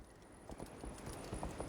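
Horse hooves clip-clop at a steady walking pace in Assassin's Creed Valhalla, soft and close, with a faint game ambience behind them.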